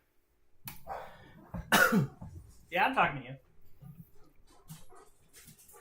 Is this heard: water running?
no